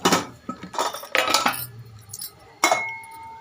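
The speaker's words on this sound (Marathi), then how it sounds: "1 चमचा हळद टाकते आहे" A spoon clinks and scrapes against metal while adding turmeric to a vegetable mix for dabeli, with several sharp, close taps in quick bursts and a final ringing clink.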